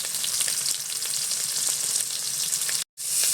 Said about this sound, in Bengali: পেঁয়াজটাকে হালকা করে একটু ভেজে নেব।